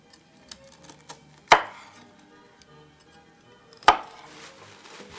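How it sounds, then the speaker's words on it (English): A knife chops broccoli on a board in a home kitchen, two sharp, distinct cuts a couple of seconds apart, with a few faint lighter taps in between and no talk. "now we're going to do some vegetable chopping"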